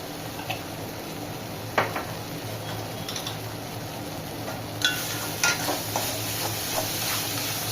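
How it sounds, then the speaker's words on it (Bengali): Masala for Bengali begun kalia being fried in a pan, a steady low sizzle with occasional sharp utensil taps and scrapes that grow brighter and louder after a few seconds, close up and without speech. "তো এবার কষা যাক মশলাটা 5 মিনিট মতো"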